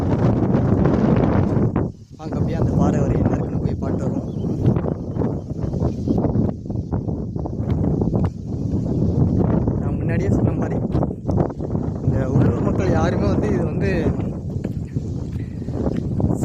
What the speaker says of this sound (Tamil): சரியான காற்றடிக்குது எனக்கு காற்றடிக்கிற சவுண்டு கேட்கும்னு நினைக்கிறேன்